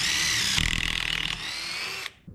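A handheld power drill bores pocket holes in wood for joinery, whining loudly and steadily with a brief surge in pitch midway before winding down and stopping abruptly.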